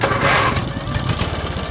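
A new motorcycle engine runs close by with a steady, rough low rumble and rapid pulsing throughout, loud and continuous with no talking.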